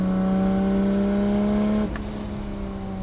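A 650 hp Nissan 300ZX with a swapped RB26 engine pulls hard under acceleration, a loud, steady droning engine note that suddenly drops off near the end as the throttle lifts or a gear changes.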